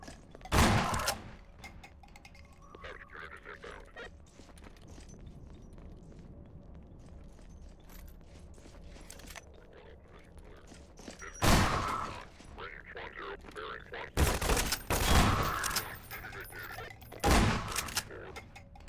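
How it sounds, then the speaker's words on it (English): Shotgun blasts in Half-Life 2 VR, a few sharp loud booms scattered across a quieter stretch of game ambience, with a tight cluster of shots near the end. "The shotgun is a very effective tool here."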